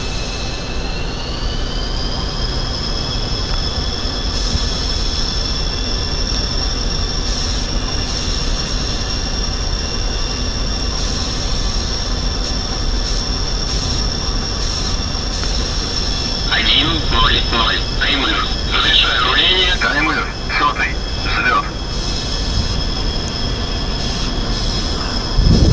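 MiG-21 Bison jet engine in a flight video game, a steady loud whine and roar that holds throughout, gaining a rougher rumbling texture near the end as the aircraft rolls for takeoff.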